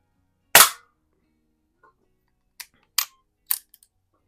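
Rohm Twinmaster Match air rifle firing at a can, heard as a loud sharp crack followed by three lighter snapping shots spaced about half a second apart, with no talking.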